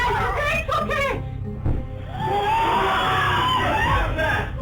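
People screaming during a paranormal investigation at an inn, several high voices shrieking and yelling over one another in an echoing, close crowd, with some nervous laughter mixed in.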